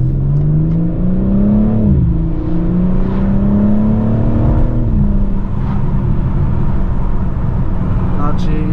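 A BMW M4 Competition with a 510 hp inline-six engine drones steadily through its exhaust, its tone rising slightly and then settling into an even, close hum throughout.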